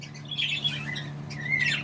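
Pet birds squawking close by in short, bright bursts over a low steady hum, with a couple of higher squeaky calls.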